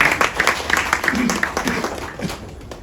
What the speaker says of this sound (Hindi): मैं चाहूँगा कि तालियों से आप उनका स्वागत करें।